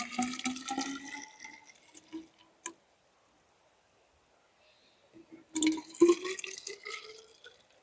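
Water is gently poured into a turbidity tube with a black and white disc at the bottom, a splashing trickle for about two seconds, then near silence, then a second pour near the end.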